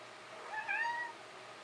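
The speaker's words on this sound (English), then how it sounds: "one of my cats" A house cat gives a single drawn-out meow, close and clear against a quiet room, rising and falling over about half a second.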